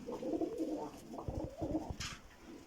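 Domestic pigeons in a breeding loft coo in low, throaty rolls close by, a brief continuous murmur with no talking.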